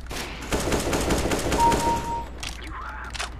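Video game gunfire in a CS:GO deathmatch: a rapid automatic burst of shots rattles for about two seconds, then a few scattered game sounds follow.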